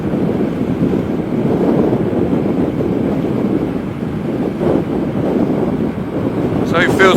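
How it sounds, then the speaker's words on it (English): Steady, loud wind rushing past while riding at speed on a Macrais Z8X boat, a continuous broadband roar with no talking. "As you can see, the only thing you can hear is the wind."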